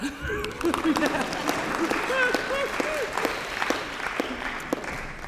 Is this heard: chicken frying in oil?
no